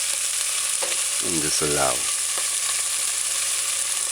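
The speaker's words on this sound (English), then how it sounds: "once the oil is hot too, let's add the marinating beef strips" Marinated beef strips hit smoking-hot oil in a pot and sizzle steadily with a dense, even crackle, while a voice speaks briefly over the frying.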